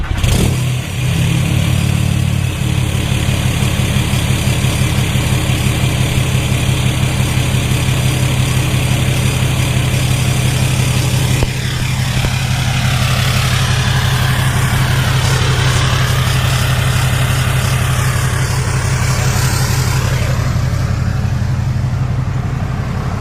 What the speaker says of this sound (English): sound clip of the 5-inch exhaust